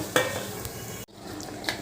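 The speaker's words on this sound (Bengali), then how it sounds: "এবার আমি সামান্য একটু জল দিচ্ছি মশলাগুলো ভালো করে কষিয়ে নেওয়ার জন্য" Spice paste is stirred and fried in a pan with a little water, a soft sizzle broken by a few scraping and clinking utensil strokes. The sound stops briefly midway, then resumes.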